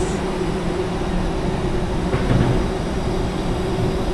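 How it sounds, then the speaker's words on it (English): Peak Tram rumbling at its terminus at The Peak in Hong Kong, a steady low mechanical drone with a faint swell around the middle, heard close by with no talk. "And the tram is here behind us."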